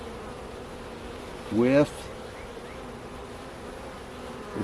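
Honeybees in a hive during an inspection of the original comb frames give a steady low hum, with a single bee buzzing loudly close by for a moment before it drifts off again.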